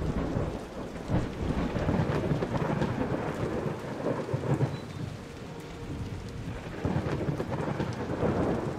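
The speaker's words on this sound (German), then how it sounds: "Aber so oft, wie das hier in der Wüste regnet, dann müsste das eigentlich eine wunderbare grüne Fläche sein." Steady, heavy rain falls with deep rolling thunder over a desert landscape in the video game Kubifaktorium, continuous and loud with no voices.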